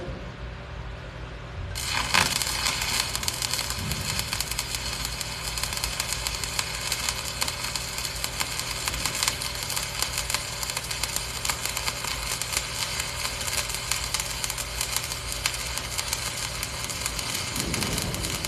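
A stick welding arc crackles and hisses steadily and loudly for a long stretch after striking up, a dense continuous sizzle running a bead with no talk over it.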